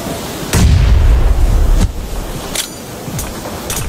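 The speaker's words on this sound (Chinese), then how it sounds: "最终对方成功吃到了小新的土豆雷" A grenade-type explosion in a shooter video game bursts loud and close with a heavy low rumble lasting over a second, followed by a few sharp cracks of gunfire.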